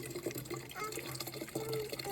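Water runs from a tap to fill a container, a steady broadband splashing and trickling that holds continuously throughout, fairly close, with no voices over it.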